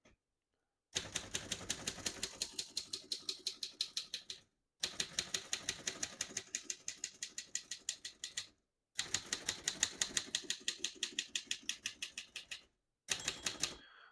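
Typing on a 1936 Royal O Model vintage portable typewriter: four rapid bursts of crisp, close keystrokes, each lasting several seconds and separated by brief pauses, with no talking.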